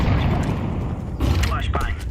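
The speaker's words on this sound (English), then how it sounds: "Grenade out" Grenade blast in a first-person shooter game, a heavy boom with crackling debris that swells midway through, loud and close under continuous game noise.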